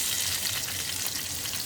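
Onions frying in a pan for chicken masala, giving a steady, dense, close sizzle throughout with no talking.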